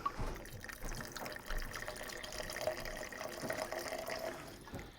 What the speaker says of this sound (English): I'm just gonna free pour this.